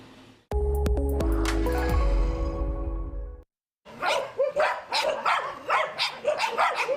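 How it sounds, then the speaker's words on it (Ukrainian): A musical chime opens, then after a brief silence several dogs bark repeatedly in overlapping bursts, loud and close, with a busy kennel feel, at an animal shelter housing over three hundred abandoned dogs. "Більше трьох сотень покинутих долею собак проживають тут."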